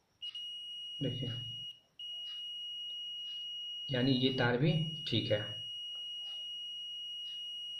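A multimeter continuity tester gives a steady, sustained beep across nearly the whole stretch, cut once by a brief gap, while someone speaks Hindi over it in short bursts.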